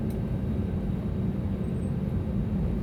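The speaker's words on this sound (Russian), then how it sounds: "И сейчас самолет подруливает к аэропорту." An airliner taxis toward the terminal after landing in Tehran, giving a steady, dense low engine rumble heard from inside the cabin, loud and unbroken throughout.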